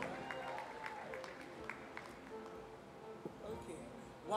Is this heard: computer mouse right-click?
no